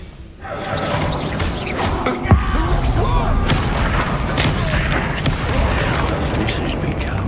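In the video game Hogwarts Legacy, the Bombarda spell sets off one sharp booming explosion during a magical duel, heard over a loud, sustained battle roar of rumbling and crackling effects.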